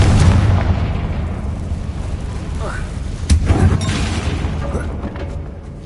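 A Confringo blasting spell in Hogwarts Legacy bursts with a heavy low rumbling boom and a sharp impact crack, set against a dense game soundscape.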